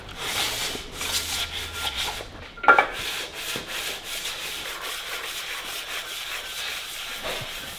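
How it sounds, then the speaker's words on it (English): A flat lapping plate scrapes back and forth across the deck of an LS1 engine block during a backyard bottom-end rebuild, making steady rhythmic gritty rubbing strokes up close with a brief clank partway through. "All we're going to do is rub the deck"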